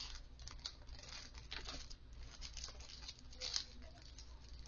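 Plastic packaging around an EMEET SmartCam C960 webcam crinkles and crackles in soft, irregular little bursts, close and faint, as it is unwrapped, with no talking.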